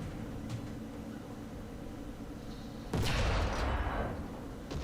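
A tank cannon shot from a BT-5 in War Thunder simulator battle, fired at a distant Panzer 38 at about 800 metres: one heavy, loud boom with a rumbling decay over steady engine drone.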